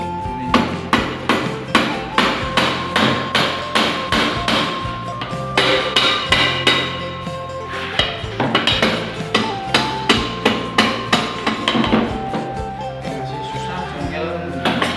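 A hammer strikes the top cover of a Suzuki ST100 manual transmission to work it loose, with sharp metallic blows falling in a steady, fast rhythm, loud and close throughout.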